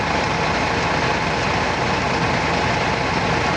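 A thermostat-controlled cooling compressor runs with a continuous, even, moderately loud hum and no change in level, with no one talking.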